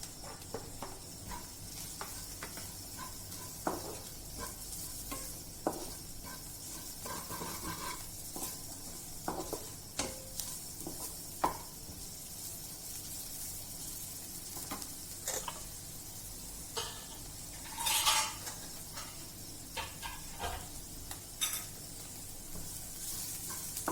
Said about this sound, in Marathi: नंतर यात टाकूया गाजर आणि पत्ताकोबी बारीक केलेली